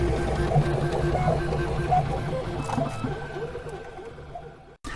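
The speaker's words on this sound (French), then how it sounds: "utiliser par le public une imprimante 3D." A 3D printer runs at a do-it-yourself exhibition, its stepper motors whirring and chirping in busy changing tones amid crowd noise, loud and close, cutting off abruptly just before the end.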